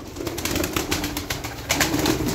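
Pigeons at a loft giving low soft coos, a short burst of repeated throaty calls with scattered clicks and rustle around them.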